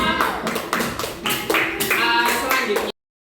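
A class of young schoolchildren claps hands together in quick rhythmic bursts, loud and close, for about three seconds before stopping abruptly.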